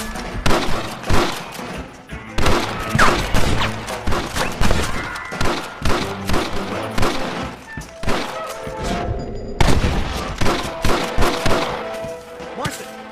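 Sniper gunfire from windows in the Western video game Red Dead Redemption, loud rapid volleys of shots and thuds crackling across a tense shootout, with brief gaps and a voice speaking amid the firing.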